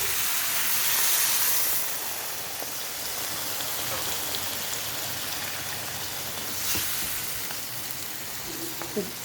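Chicken meat simmers in a covered pan after a little water is added for butter chicken, making a soft, continuous hiss and bubbling patter like light rain, with a few faint clicks and no talk.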